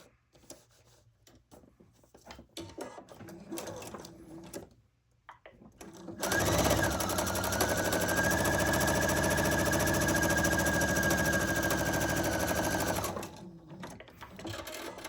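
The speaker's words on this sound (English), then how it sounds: "I'm going to go to my sewing machine, and I'm going to sew right on that two line and the 1 line" A sewing machine stitching quilt fabric with a short stitch length runs in one steady, close, buzzing burst of about seven seconds, after quiet handling noises and before it stops.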